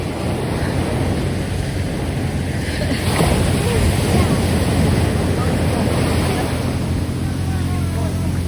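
Ocean surf rolls onto a beach in Zambales in a steady, close wash of broadband noise, with wind buffeting the microphone throughout.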